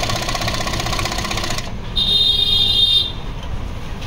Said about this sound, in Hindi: ये है गेजिंग मशीन है, सिलेंडर बेल कांसई कंपनी का है। ये देखिए इधर बेहतरीन तरह से सिलाई हो रहा